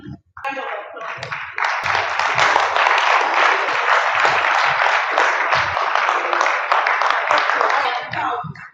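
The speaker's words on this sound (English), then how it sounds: "We need to give you a rounding round of applause." Audience applause for innovators at an innovation challenge event, starting after a brief pause and swelling into steady, loud clapping that holds before tapering at the end.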